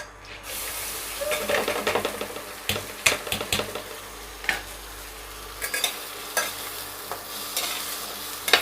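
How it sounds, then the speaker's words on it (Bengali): Soaked mung dal stirred and lightly fried in hot ghee in a pan, a close steady sizzle broken by repeated scraping and clattering strokes of the spoon, with no talking. "এখানে আমি ভিজিয়ে রাখা মুগ ডালটাকে হালকা করে ভেজে নেব।"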